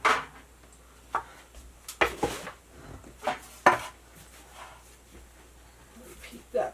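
A shaped bread loaf dropped into a baking pan in a small tiny-house kitchen, heard as a few sharp knocks and clunks against the metal pan, separated by quiet gaps.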